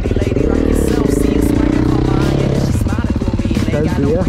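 A Yamaha 450 motocross bike's engine runs loud and close, a steady dense roar with rising revs, while voices chatter faintly behind it.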